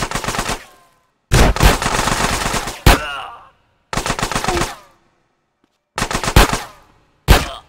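Gunfire in GTA San Andreas comes in loud, close bursts of rapid automatic shots, each lasting a second or two with brief silent gaps between, ending in a couple of single sharp shots; a voice briefly exclaims.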